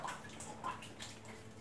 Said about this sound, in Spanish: Y podemos escuchar el continuo sonido del agua, el goteo